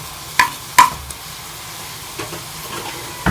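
Crushed Oreo powder is stirred into tea simmering in a pan: a few short, distinct scraping strokes of a spoon over a faint, quiet bubbling background.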